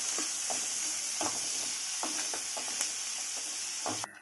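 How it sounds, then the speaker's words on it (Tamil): A chopped large onion sautéing in hot oil with a steady close sizzle, broken by repeated scraping stirs of a spoon in the pan, and no voices. "வெங்காயத்தை ஒரு 2 மினிட்ஸ் நம்ம நல்லா வதக்கிக்கலாம்."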